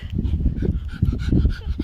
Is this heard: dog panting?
yes